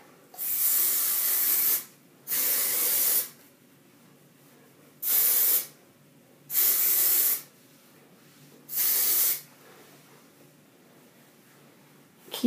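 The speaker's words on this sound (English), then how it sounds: "And spray it big." Hairspray sprayed onto teased curls in five separate hissing bursts, each lasting roughly a second, close and loud, with quiet pauses between them.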